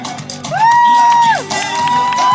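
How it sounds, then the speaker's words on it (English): A fashion show audience at a final night and awards event cheers loudly, with sustained whoops and shouting from a close, excited crowd over a murmur of voices. "Give another round of applause,"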